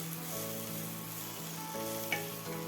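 Vegetables with cumin powder for bitter gourd chochchori sizzle steadily in a pan while being stirred, a close, continuous frying hiss with a soft scrape near the end and no talk.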